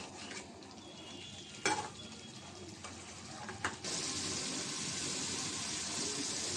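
Katla fish pieces are stirred in a pan, with a few faint scrapes and knocks giving way to a steady, soft frying sizzle.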